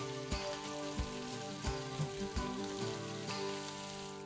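Food pan-frying in a wok gives a steady, close sizzle and crackle throughout, with soft periodic knocks and a faint tonal background underneath.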